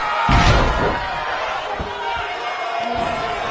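A wrestler is slammed face first onto the ring canvas, a heavy thud near the start with crowd noise, followed by a few softer thumps and bumps.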